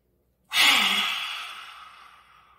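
A single long, deep breath during a breathing exercise for releasing anger, starting suddenly after a short silence and fading slowly over about two seconds, close and breathy with no talk over it.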